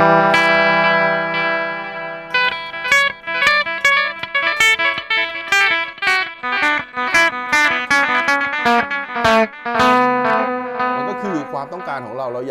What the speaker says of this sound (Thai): ดีเลย์ก็คือเสียงตามนั่นเอง